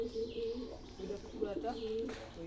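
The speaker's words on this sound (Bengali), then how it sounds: "এই 5টা কবুতর আসছে এখানে।" Pigeons gathering near coconut trees coo softly at close range, several overlapping low warbling calls running through the whole moment, partly mixed with a voice.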